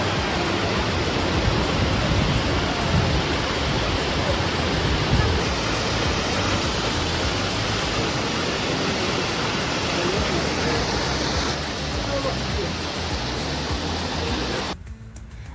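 Kurşunlu waterfall near Antalya roars with rushing water, a loud, dense, unbroken wash that holds steady close by and cuts off sharply at the very end.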